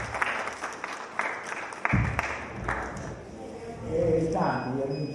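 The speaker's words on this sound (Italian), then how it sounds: "E un applauso anche a lei" Audience applause at a book presentation, a burst of clapping that fades out as talk resumes, with voices speaking over and after it.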